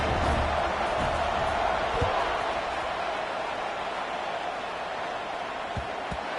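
A stadium crowd in the College Football 26 video game, a steady broad roar of cheering fans that stays loud throughout, with a few faint thuds mixed in.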